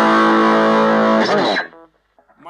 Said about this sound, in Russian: Star, громкость на полную, канал овердрайв.